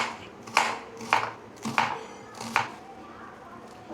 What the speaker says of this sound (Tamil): வெங்காயத்தை கொஞ்சம் கொஞ்சமாக சின்னதாக நறுக்கிக்கிறேன்.